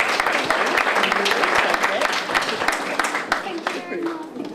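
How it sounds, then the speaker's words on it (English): An audience at an art society summer exhibition applauds an award announcement, brisk individual hand claps forming a lively round of applause with talk and murmuring over it, tapering toward the end. "a big round of applause, I think, for all three"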